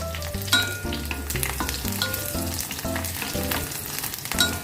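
Nigella seeds, green chillies and garlic cloves fry in mustard oil, a close crackling sizzle with rhythmic stirring scrapes and clinks throughout, no voices heard.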